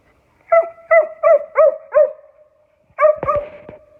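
A dog in hunting mode lets out a rapid series of five loud, close barks, pauses, then fires off a few more excited, yelping barks.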